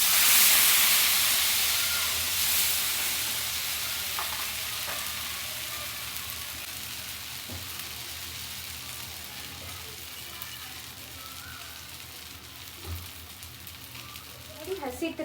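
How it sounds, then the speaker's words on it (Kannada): Oil sizzling on a hot dosa griddle (hench) while preparing instant rice-flour onion dosa, a steady broad hiss that is loudest at the start and slowly fades, with faint clicks and a few small bumps near the end. "ದೋಸೆ ಹೆಂಚು ಇಟ್ಕೊಂಡಿದ್ದೀನಿ, ಸ್ವಲ್ಪ ಎಣ್ಣೆ ಹಾಕ್ಕೊತಾ ಇದ್ದೀನಿ."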